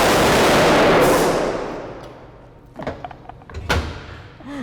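An 1,800-volt capacitor bank fires with a loud, broadband blast right at the start that decays into a fading roar over about two seconds, followed by scattered clicks, thuds and clatter nearby.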